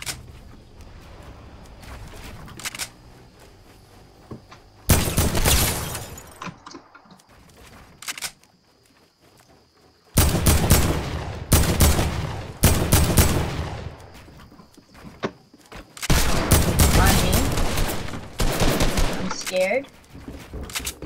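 Bursts of gunfire in Fortnite ring out in several loud clusters of rapid shots, with quieter stretches of game ambience in between and a voice talking over parts of it.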